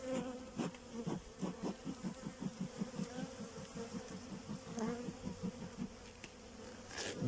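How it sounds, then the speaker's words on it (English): Honeybees in a managed hive make a steady close buzz, with a low droning hum and repeated pulsing swells as individual bees pass near, continuing without any talk. "We've got a nice hive here."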